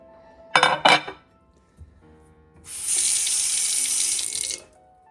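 A couple of sharp clinks of a china plate in the sink, then a kitchen tap runs in a steady, close rush of water for about two seconds before shutting off.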